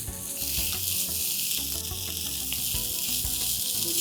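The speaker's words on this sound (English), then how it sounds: "Let's mix this on high flame and allow this to cook precisely for a minute." Soya samosa stuffing seasoned with garam masala, salt and lemon juice sizzles and fries in a pan over a high flame, a steady close hiss with faint stirring scrapes throughout.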